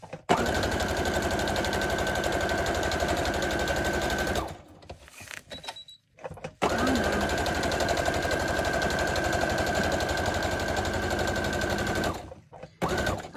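A sewing machine stitches a Halloween junk journal cover in two long, fast runs of even mechanical chatter, split by a short pause with faint clicks.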